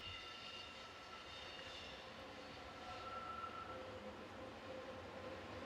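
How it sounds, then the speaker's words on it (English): An MOB Class ABDE88 electric train pulls out of a station on a service for Zweisimmen, a steady low rumble and hum holding at a moderate distance throughout, with faint tonal whines rising slightly partway through. "Leaving on the adjacent line is one of MOB's Class ABDE88 electrics with a service for Zweisimmen"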